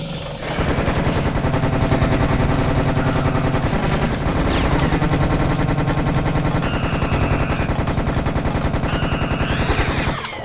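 Rapid, continuous gunfire from Serious Sam Second Encounter blasts loudly and densely for about ten seconds, with overlapping bursts of automatic fire and heavy shots and no speech over it.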